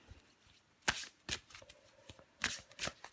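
Fortune-telling cards are shuffled and drawn in several quick, close riffles and slaps, separated by brief quiet gaps, crisp and fairly loud against near silence.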